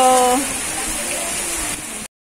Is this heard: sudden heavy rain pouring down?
yes